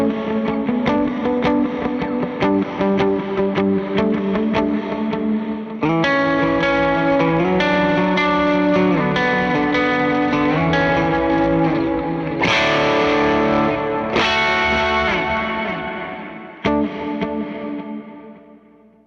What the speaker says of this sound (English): Comp Pulse, which is just a reverb utilizing more compression to make the effect kind of breathe